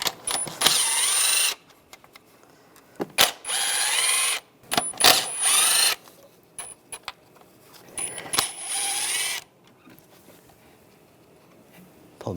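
A ratchet with a 10mm socket backs out the center valve cover studs on a 2001-2006 BMW 325Xi, giving several separate bursts of quick metallic clicking with short quiet gaps between them, close up.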